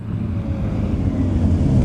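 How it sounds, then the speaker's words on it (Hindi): A car slows on a roadside, a low, steady engine rumble with faint traffic noise around it and no talking. "सुनिए, जरा गाड़ी साइड में रोकिए।"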